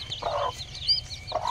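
Hens in a village henhouse, one with newly hatched chicks, give two short soft clucks close by, separated by a brief pause over quiet background chirps.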